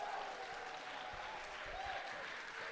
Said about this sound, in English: Yeah, give it up for me, too. I'll take your applause as well.